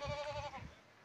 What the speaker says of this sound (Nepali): हेर्नुहोस् है यो लेकको बाख्राहरू